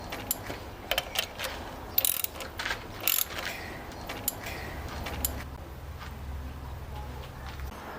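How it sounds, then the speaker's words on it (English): A ratchet clicks in short irregular bursts while tightening valve cover screws on a Fiat Punto MK2 engine, close and crisp over a low background hum, with a few sharper metallic knocks. "Put the screws back and tighten them"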